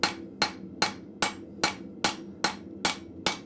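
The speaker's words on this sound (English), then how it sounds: "I'm going to start and hopefully not hit my anvil too many times" A blacksmith's hammer strikes hot steel on an anvil at a forge, about nine sharp ringing blows at an even, unhurried rhythm, close and loud with no talking.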